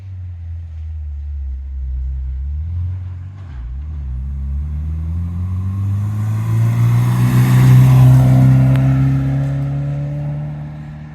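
Toyota GT86 rally car driving out onto a track in Japan, its engine note climbing steadily as it accelerates away, moderately loud and slightly distant, with no talk.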